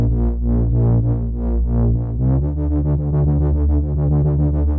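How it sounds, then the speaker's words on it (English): An old school saw Reese bass patch in Serum 2, using all three oscillators, for 90s atmospheric jungle: a loud, thick detuned bass drone with a steady wobbling pulse, shifting pitch partway through and growing buzzier, with no voices. "It's effectively like an old school Saw Reese bass."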